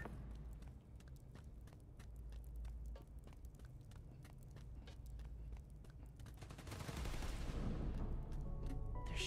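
Rapid bursts of gunfire ring out in the Spider-Man: Miles Morales video game, with steady repeated shots through a busy stretch that swells into a louder, denser volley near the end.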